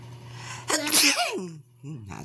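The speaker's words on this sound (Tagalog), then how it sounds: "Bahing pa tayo. Kasi malamig dito." A person sneezes once outdoors in cold air, a loud sharp burst with a trailing vocal tail, over a steady low hum, followed by a brief voiced breath.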